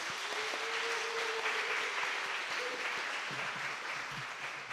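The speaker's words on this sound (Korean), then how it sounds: "감사와 응원의 박수 드리겠습니다." A church congregation at a Sunday afternoon service claps in thanks and support, steady, dense applause filling the room for several seconds, with a faint sustained tone and some murmuring underneath before it tapers slightly.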